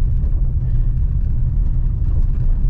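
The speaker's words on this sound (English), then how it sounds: "this is what it looks like driving the Toyota hybrid." A Toyota hybrid rental car drives along a road, giving a steady low rumble of tyres and engine, close and constant.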